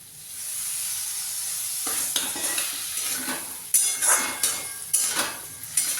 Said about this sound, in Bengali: মশলাটাকে আবার একবার কষাবো, একটু একটু হালকা করে জল দিয়ে দিচ্ছি।